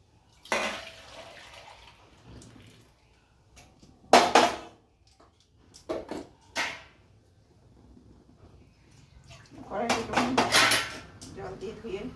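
A metal wok (kadai) is rinsed with water. Separate bursts of clanking metal and splashing come and go, with quiet pauses between them.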